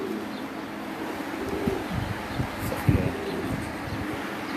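Pigeons on a rooftop loft coo in low, throaty bursts, several calls overlapping at close range against a faint breezy background with no clear speech.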